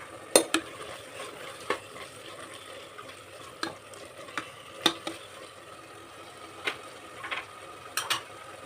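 Tomatoes and freshly added chopped mint fry in a pan for an avarekalu (field bean) pulao, giving a low steady sizzle broken by sharp clicks and scrapes of stirring, close and without talk.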